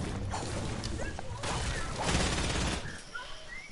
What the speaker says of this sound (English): More shots fired.